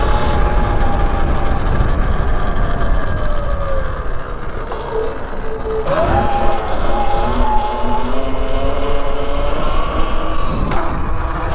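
A motorcycle engine revving hard through a power wheelie, climbing and falling pitch in sustained pulls with a sharp surge near the middle, loud and close over outdoor background noise.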